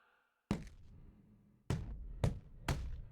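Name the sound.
body shot punch in boxing video game Fight Night Round 4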